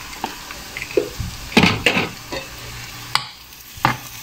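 A spoon stirs a thick jereesh porridge mixture with powdered black lemon in a pot, giving irregular scraping and soft sloppy swishes with faint sizzling, close and alone.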